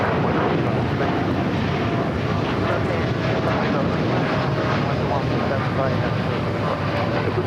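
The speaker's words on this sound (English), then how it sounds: "That was a 787-8 Dreamliner, flight 788." Air Canada Boeing 787-8 Dreamliner taking off at Los Angeles airport, a broad, steady engine roar with wind buffeting, continuous and loud throughout.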